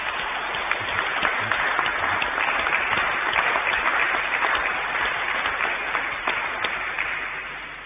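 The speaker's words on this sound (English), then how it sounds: "I think we can give him a clap." Congregation in a cathedral applauding a newly installed canon at a chapter Mass, steady dense clapping that holds evenly for several seconds in a reverberant space before fading slightly.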